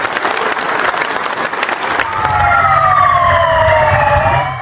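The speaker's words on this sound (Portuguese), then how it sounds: "O cortejo deixou o local do velório sob aplausos." Applause from a crowd as a funeral procession leaves the wake in Foz do Iguaçu, followed by a loud wailing emergency vehicle siren sweeping up and down nearby.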